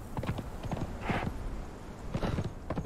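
A zebra mount in the game Conan Exiles runs, its hooves clopping in quick uneven bursts, fairly faint and close, with no voices.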